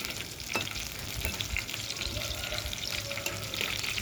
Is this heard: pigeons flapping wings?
no